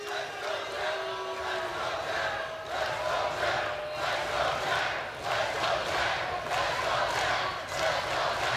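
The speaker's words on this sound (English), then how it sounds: "And you can hear it in the crowd here in San Antonio" Wrestling crowd in a San Antonio arena cheering and chanting in rhythmic surges, a distant roar with repeated swells, with commentators talking over it.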